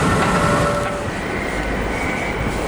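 A train rumbles at a busy railway station, with broad, steady wheel and engine noise filling the platform at close range with no voices.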